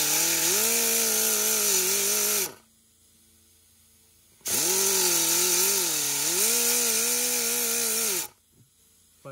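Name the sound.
power tool cutting a groove in Kia Rio hatch switch housing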